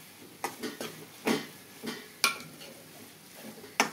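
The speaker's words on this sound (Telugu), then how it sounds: "కారం వేస్తున్నా" Chili powder going into a pot of gongura curry, heard as scattered faint clinks and scrapes of a spoon against the pot, several short taps spread across a few seconds with quiet gaps between.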